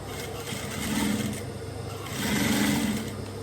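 Close-up whirr of a sewing machine stitching a bomber jacket, running in two even surges of rapid stitching with a slight dip between them and no talk.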